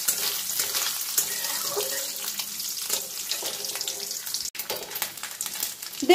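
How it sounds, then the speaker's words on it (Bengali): Coconut shreds frying in hot oil left over from frying peanuts: a steady, close, hissing sizzle with no talk, briefly dipping near the end. "নারকেল কুচিটা একটু লাল লাল করে ভেজে নেব।"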